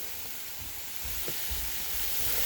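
Spring onion sizzles in a hot frying pan while fried rice with carrots is being prepared, a soft steady hiss and crackle at low volume with a few faint stirring knocks and no voices.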